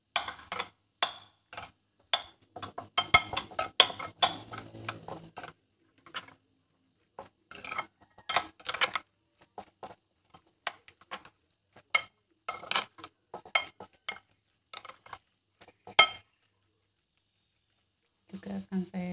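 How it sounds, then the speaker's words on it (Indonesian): A utensil stirring a mixture in a bowl, giving irregular soft clinks and scrapes against the bowl in scattered bursts, fairly quiet, with brief pauses and a near-silent stretch toward the end. "kemudian akan saya aduk"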